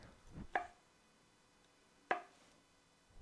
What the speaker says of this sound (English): Cut each mushrooms into thin slices.